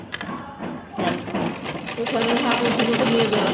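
A sewing machine stitching palazzo trousers, whirring in a steady rapid run of stitches after a brief pause at the start, close and continuous, with a voice talking over it.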